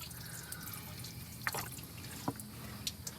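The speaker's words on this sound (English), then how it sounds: "Where's that water coming from? Radiator." Water dripping from the radiator of an abandoned 1974 Ford F250 V8 pickup, a few sparse, distinct drips and splashes over quiet outdoor background noise.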